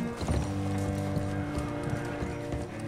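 Horses clip-clop in Red Dead Redemption II as packs are loaded onto them, with steady hoof knocks under a dense, continuous hum of music and ambience.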